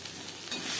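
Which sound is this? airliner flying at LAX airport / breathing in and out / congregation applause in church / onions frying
onions frying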